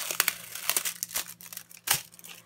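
A foil sheet held down with washi tape is peeled away, giving close, crisp crinkling and tearing rustles in several quick bursts.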